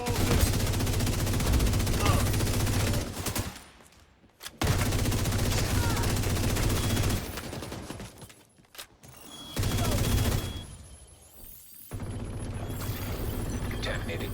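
Heavy automatic gunfire crackles in The Division 2, loud sustained bursts broken by brief quiet pauses, with in-game voice callouts mixed in.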